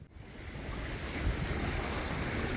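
Waves and surf roll onto the shore of the Aegean Sea at the Greek island of Aegina, a continuous loud wash of water mixed with wind buffeting the microphone.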